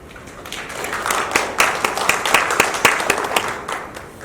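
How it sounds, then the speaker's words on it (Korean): Audience at an annual economic seminar of the Goyang Chamber of Commerce claps, with scattered distinct hand claps building into moderate, uneven applause that holds throughout. "박수 한번 주십시오."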